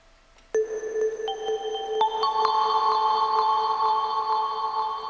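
Bright bell-like synth tones strike one after another, building into a shimmering chord that rings on with a long reverberant tail.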